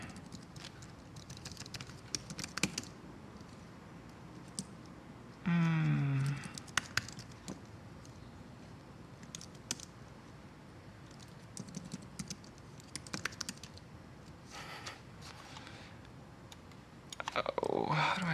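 Computer keyboard typing comes in scattered bursts of close clicks and clatter over about eighteen seconds, with short pauses between runs and a brief hum partway through.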